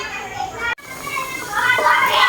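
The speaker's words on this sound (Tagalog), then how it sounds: "Naglalaro po kasi yung mga bata dyan sa labas." Children playing outdoors near a home kitchen where a simple supper is being cooked, their distant shrieks and chatter rising steadily, with a brief dropout near the start.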